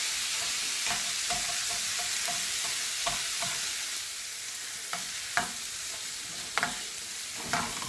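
A spoon stirs ratatouille vegetables in a hot pan over a steady sizzle, with soft scraping strokes and several sharper clacks of the spoon against the pan, close and fairly loud, with no speech.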